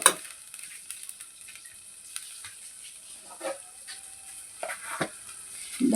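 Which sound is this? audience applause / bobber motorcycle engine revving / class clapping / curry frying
curry frying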